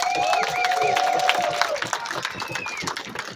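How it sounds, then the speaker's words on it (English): Crowd applauding and cheering at an outdoor community rally for violence-prevention groups at a courthouse, steady clapping with whoops and voices over it, loudest early then tapering. "Give yourself a round of applause, CMS"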